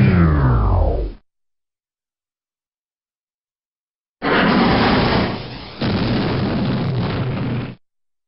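Explosion of a command center in the 1996 PC game Hellbender: a burst of sound that dies away within about a second, then a long silence before a second loud, broad roaring rumble that runs about three seconds and cuts off abruptly.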